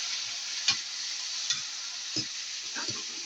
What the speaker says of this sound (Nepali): टमाटर टमेटो अब टमाटरलाई यसरी भुटिन्छ